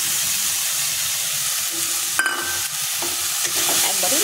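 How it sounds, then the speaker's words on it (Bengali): Spice paste with onion, turmeric, chilli powder and ginger garlic paste sizzles and fries in a pan, steady crackling broken by a few scraping stirs of a spatula, close and alone. "একবারে মশলাটা কষে নিচ্ছি।"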